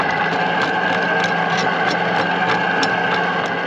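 A sailboat's inboard engine motors steadily out from the lee of islands, a continuous close drone with a faint rhythmic ticking, loud and unbroken, no voices.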